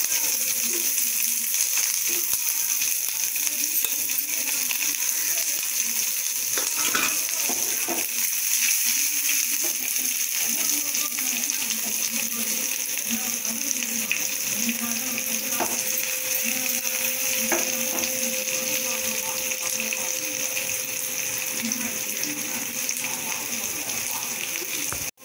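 Mustard seeds, dried chilies and onion fry in hot oil in a kadai, making a steady, close sizzling hiss with occasional small pops and stirring knocks.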